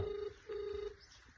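Telephone keypad tones beep as a number is dialed: two steady tone bursts of about half a second each, moderately faint, over low background noise with no one talking.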